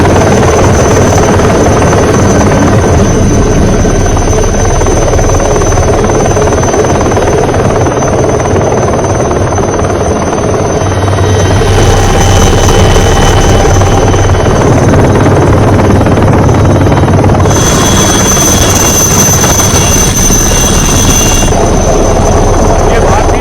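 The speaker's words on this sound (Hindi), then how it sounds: "देखिए जरा किस तरह से भारतीय वायुसेना का हेलीकॉप्टर पहुंचा है श्रीलंका में।" An Indian Air Force rescue helicopter flies over cyclone-hit Sri Lanka. Its steady rotor and engine drone runs loud and unbroken for the whole stretch, with voices talking over it.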